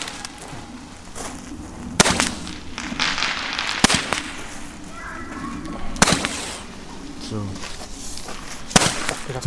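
Roman candle fireworks burn outdoors with a rough continuous hiss, punctuated by sharp cracking bangs at irregular intervals, while people talk nearby.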